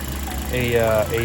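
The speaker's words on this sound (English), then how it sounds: "I think I didn't show yet how the car is idling after I fixed that little gasket here" A 2005 Scion xA engine idles after a small gasket fix, a steady low mechanical hum running beneath a voice as he speaks throughout.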